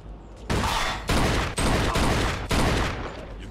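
Sustained bursts of automatic gunfire in the video game Mafia during a shootout, four long loud volleys separated by brief pauses, close and dense.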